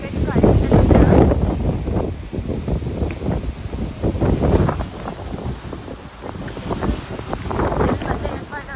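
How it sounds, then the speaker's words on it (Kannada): Strong, cold wind at a hill resort in Ooty buffets the microphone in heavy, surging gusts that rise and fall, with a voice talking partly beneath the roar. "ಗಾಳಿ ಗಾಳಿ ನೋಡ್ರಿ, ಜಸ್ಟ್ ಗಾಳಿ ಇಷ್ಟು ಕೆಟ್ಟ ಗಾಳಿ"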